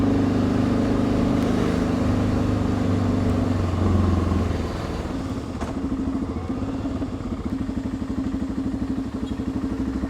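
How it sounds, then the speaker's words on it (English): Steady road traffic on a street in Corfu holds a loud, continuous engine drone, with a motorcycle or car running close by and its pitch shifting as it eases off partway through. "Wow, a little traffic here."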